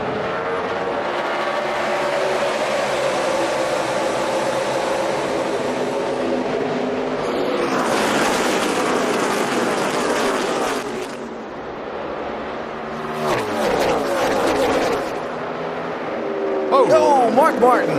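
NASCAR stock cars roaring as the field accelerates on a green flag restart at the 2011 Brickyard 400 in Indianapolis, a loud sustained engine wash with passing surges, under continuous commentary.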